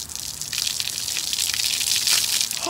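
Cold water gushes and splashes as it is poured over a person wearing flip-flops during a dare challenge, a continuous close pour that grows slightly louder toward the end.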